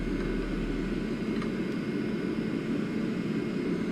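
Boeing 777 jet engines in the X-Plane flight simulator hold a steady, heavy roar with a deep low rumble and broadband hiss, unbroken throughout.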